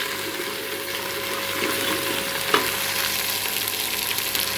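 Dry spices, cumin, chili, salt and turmeric hitting hot oil with browned onion, garlic and chili, a steady close sizzle and hiss with a brief stir clatter midway, no talking.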